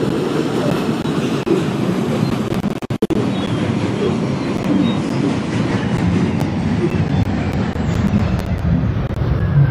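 An R142 subway train on the 5 local line rumbles loudly and steadily along the tracks toward Eastchester, with a constant low roar and a brief sharp clatter partway through.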